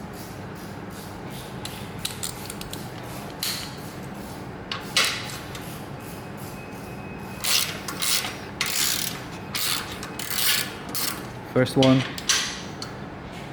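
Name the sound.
ratchet removing exhaust bolts on Harley Davidson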